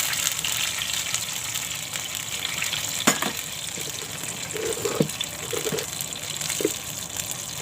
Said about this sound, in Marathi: पाणी टाकते.